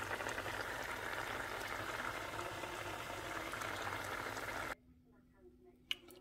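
Coconut rice bubbles and simmers in a covered pot, a steady close hiss of boiling that cuts off abruptly near the end, leaving near-quiet with a single faint knock.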